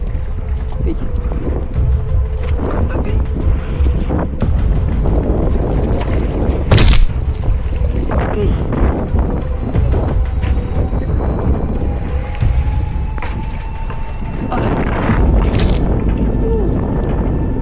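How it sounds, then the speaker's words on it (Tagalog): Strong wind buffets a fishing boat at sea as waves build, a steady low roar and microphone rumble running throughout, with occasional thumps and knocks from the hull and deck. "Medyo lumakas ang hangin, at lunalaki na ang mga alon."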